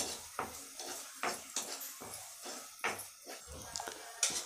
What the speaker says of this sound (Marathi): तर आता तेल तापलेलं आहे, त्यामध्ये आपण कांदा टाकून घेऊयात.